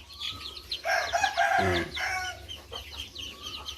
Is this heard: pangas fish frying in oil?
no